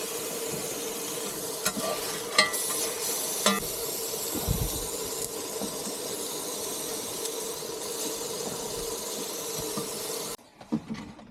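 Food sizzles and hisses in a small pan over a roaring rocket camp stove on a small boat, a steady close frying noise with a few clinks and stirring scrapes before it drops away at the end.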